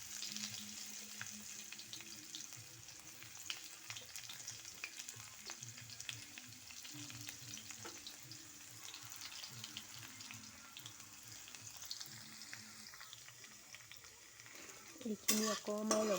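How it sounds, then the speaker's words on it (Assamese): Chopped ginger and garlic fry in hot oil with bay leaves, a steady close sizzle with occasional stirring clatter, ending in a brief louder burst near the end. "এইখিনি অকণমান ৰঙচুৱা হোৱালৈকে ভাজিব লাগিব তেলতে।"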